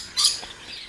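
A single brief, bright chirp from a Java finch in a backyard aviary, fairly close, followed by quiet with no other calls.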